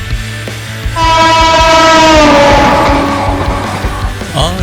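A passing Indian express train, the Bihar Sampark Kranti overtaking the Mahabodhi Express, sounds a long loud horn blast over rumbling wheels and rhythmic clatter of rail cars close by, the horn fading as the train moves on.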